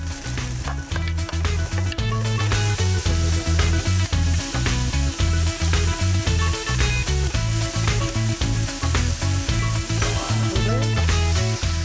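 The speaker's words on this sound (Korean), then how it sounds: "팬을 뜨겁게 달궈 기름을 두르고 향채를 먼저 볶아주세요" Garlic, scallion and ginger stir-frying in hot oil in a pan, a loud continuous sizzle with rhythmic scraping and tossing strokes, close and steady throughout, with faint music underneath.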